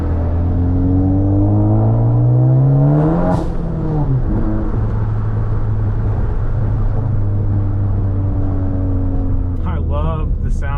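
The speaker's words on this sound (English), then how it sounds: "I love the sound of this blow-off valve, and you can hear how amazing that turbo sounds inside the cabin." Inside the cabin of a Ford Focus ST fitted with a big turbo, the engine drones loudly under acceleration with a rising turbo whine. Revs drop suddenly mid-way with a whooshing blow-off valve release, then the engine settles to a steady hum, ending with a brief chattering flutter.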